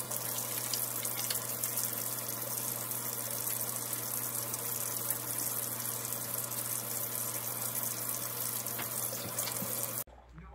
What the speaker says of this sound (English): the first thing I do when I get back is I wash my hands